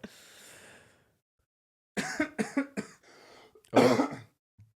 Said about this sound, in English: Nervous coughing.